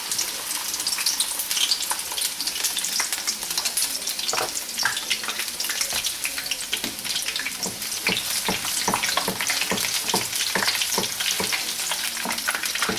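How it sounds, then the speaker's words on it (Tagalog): Okoy, Filipino shrimp fritters, frying in hot oil in a frying pan at medium heat: a steady, close bubbling sizzle with crackles and a few sharper spatters and stirring clicks, with no voices. "dito sa ating frying pan, nagpainit na ako ng oil. So, iprito na natin yung ating okoy."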